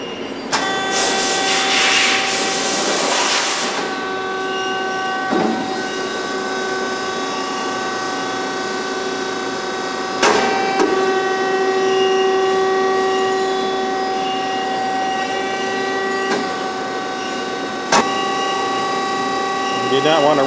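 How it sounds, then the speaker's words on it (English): A Dreis & Krump HSB-1014 leaf brake with power back gauge runs through an automatic cycle: an initial hiss, then a steady motor hum with tonal whines and periodic clunks, close and continuous. "Turn the machine on and operate it through one automatic cycle."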